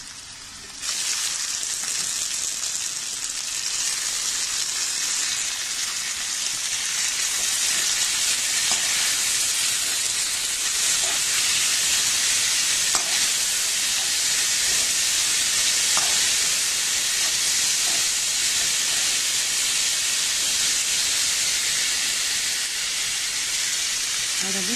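Shredded cabbage frying in a pan with ginger and garlic, a steady loud sizzle and hiss running throughout with occasional soft stirring clatters, no voices.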